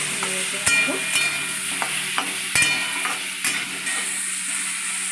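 Raw mango pieces with turmeric stir-fry in a pan, with a continuous bright sizzle punctuated by repeated scraping strokes of a spatula at an irregular rhythm.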